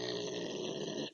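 A dog growls in a low, continuous rumble lasting about a second at close range, alone without speech, then breaks off abruptly.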